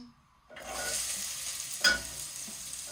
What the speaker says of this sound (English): we're going to give this a good stir, a good quick stir